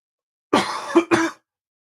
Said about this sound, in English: ooh, coughs are coming back.